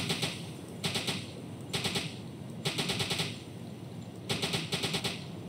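Machine gun fire in the submarine game U-Boat comes in four short, rapid rattling bursts separated by brief pauses over a constant low background hum.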